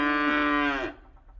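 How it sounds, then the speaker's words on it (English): Cattle on a farm giving one loud, close, sustained moo that breaks off abruptly, followed by faint low rumbling. "The cattle came."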